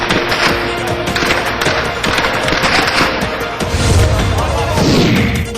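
Security forces open fire on stone-throwing protesters in Baghdad, with bursts of rapid gunfire and crashing impacts over a dense, loud crowd din, with voices shouting throughout.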